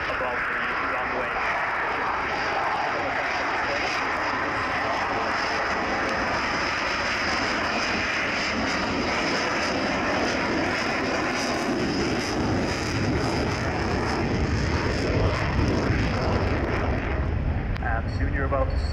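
A loud, steady aircraft engine roar from a low-speed display pass at roughly 100 knots above the runway at the Royal International Air Tattoo air show, sustained and powerful throughout, with a slight swell near the end.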